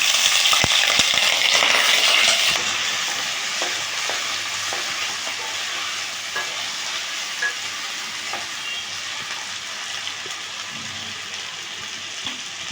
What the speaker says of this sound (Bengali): তেল গরম হয়ে গেছে এবার আলুগুলো দিয়ে দিচ্ছি